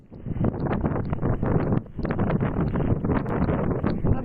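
Strong wind gusting during rain in Mumbai, a dense continuous roar with rustling and buffeting against the microphone, steady and loud throughout with a brief dip midway.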